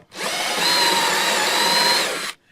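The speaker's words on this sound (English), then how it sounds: "18 volt half-inch drive drill. It's the older style, uses NiCad battery still," An older 18-volt half-inch-drive NiCad cordless drill runs at a steady high whine for about two seconds, close and loud, spinning up quickly and then cutting off.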